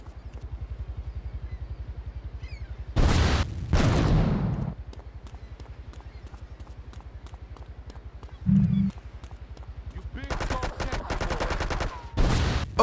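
Machine gun fire from M16-armed cartel goons in Grand Theft Auto III comes in several loud bursts over a steady low engine-like drone, with bursts around a few seconds in and again near the end.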